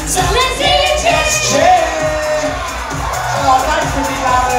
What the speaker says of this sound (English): Hands up. Let's see you cheer.